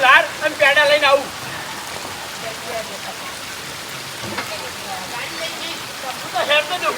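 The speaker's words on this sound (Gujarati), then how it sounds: "વરસાદ આવી ગયો" Rain falls as a soft, steady patter and hiss, moderately near, with a person talking at the start and again at the end.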